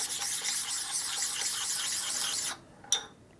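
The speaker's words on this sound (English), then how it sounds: "Honing stone." Abrasive rubbing of a honing stone worked back and forth over a part from a 1972 Harley-Davidson XL Ironhead Sportster engine during a rebuild, a steady close gritty scrape that stops abruptly, followed by a single brief clack.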